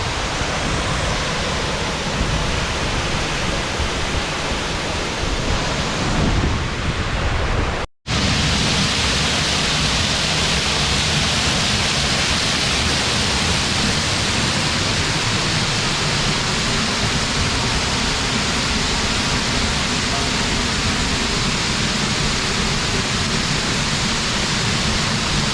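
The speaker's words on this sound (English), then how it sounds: "that, ladies and gents, is waterfall number 4." Waterfall number four on the Four Falls Trail in the Brecon Beacons roars as a loud, unbroken wash of falling water, close and constant apart from a split-second dropout.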